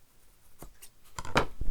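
Paper being cut for a craft pocket page, a few short crisp snips with a louder cluster near the end, close and fairly quiet with no talking.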